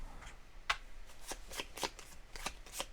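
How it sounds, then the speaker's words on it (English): A deck of cards from the Legacy of Yu board game is shuffled, a faint, close run of crisp riffling snaps and flicks over a soft room hiss, with no speech. "I destroy 2 cards, so this gets shuffled."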